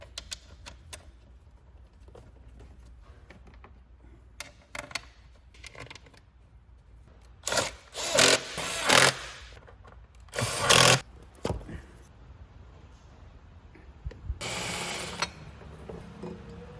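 A power tool drives bolts into the top cover of a 6.7 Cummins engine, several short loud whirring bursts separated by quieter gaps with faint clicks and handling noise.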